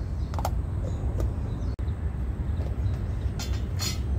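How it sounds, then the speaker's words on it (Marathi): A mixer grinder whirs steadily as it grinds coconut, garlic and green chilli chutney, a loud continuous rumble with a brief cut-out midway and a few sharp higher clatters from the jar. "तर आता हे मिक्सरला ना बारीक करून घेणार आहे मी।"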